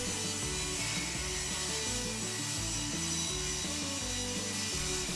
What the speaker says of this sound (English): The ply is cut into 2-inch wide strips